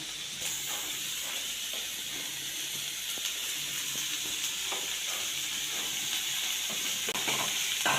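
Sliced onions frying in oil in a pan with a little salt sizzle steadily and fairly quietly, with occasional stirring scrapes and no talking.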